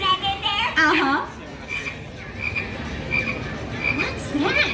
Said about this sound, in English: Sounds like a green frog loving life in his swamp.